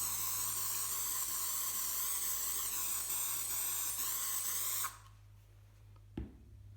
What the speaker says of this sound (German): Ihr haltet die Dose dann ungefähr so 20 cm vom Bild weg und sprüht